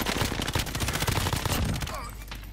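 Gunfire aimed at players in the video game Warzone on Rebirth Island, a dense, rapid burst of loud close shots that fades slightly toward the end.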